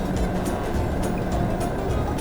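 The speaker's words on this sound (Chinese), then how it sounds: "你们听听看一下这辆车的平常待机状态， 它的一个引擎声。" A Proton X50 engine idles with a steady low hum and faint rhythmic ticking, heard up close with no talk over it.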